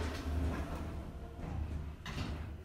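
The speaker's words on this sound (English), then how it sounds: "Doors closing." Lift doors in a Southampton building sliding shut, a soft mechanical whoosh and rumble with a couple of low thuds, fairly quiet and heard without speech.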